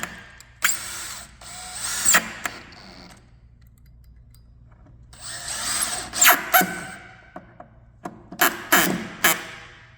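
A power drill drives screws into an MDF arcade cabinet base in bursts: a couple of short whirring runs, a quiet pause, then longer driving with ratcheting clicks and several sharp final bursts, close and loud.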